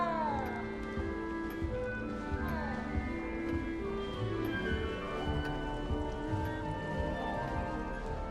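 A cat in the video game Hogwarts Legacy meows in drawn-out, wavering cries that repeat over a dense layer of game music and ambience.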